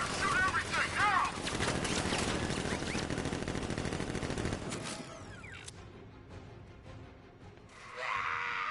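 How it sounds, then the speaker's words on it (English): Dense automatic gunfire from an enemy ambush in Batman Arkham Knight roars continuously for several seconds, then drops away into softer debris and mechanical rattles, with a brief burst returning at the end. "Open fire! Shoot everything, now!"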